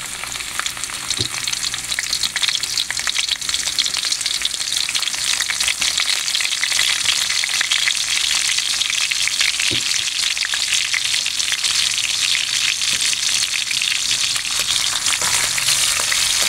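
Onions sautéing with burong kanin, fermented rice, in a hot pan: a loud, dense, continuous sizzle, close up, broken by a few soft knocks of a stirring utensil.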